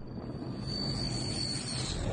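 Fixed-wing plane coming in to land, a steady loud engine drone and rumble throughout with a faint high whine above it, no voices present.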